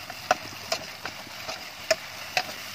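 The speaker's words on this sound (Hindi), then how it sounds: "अब इसके अंदर हम डालेंगे अदरक लहसुन का पेस्ट, 2 चम्मच है ये जाएगा। अब इसको हम हल्का सा भूनेंगे" Two spoonfuls of ginger-garlic paste frying lightly in a pan, a soft steady sizzle broken by sharp spoon or spatula scrapes and taps at an irregular, unhurried pace.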